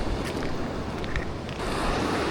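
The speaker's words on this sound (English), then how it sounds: "The waves are crashing in." Sea waves crash against a rocky shore in a constant, loud broadband roar, with wind buffeting the microphone and no voices.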